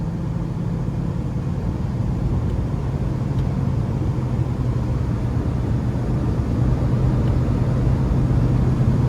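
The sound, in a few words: 2008 Toyota Tacoma V6 driving on the interstate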